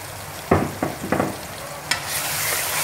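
Tomato puree tipped into mutton in a cooking pot, giving a few short stirring scrapes and soft splats at the start, then a steady low sizzle.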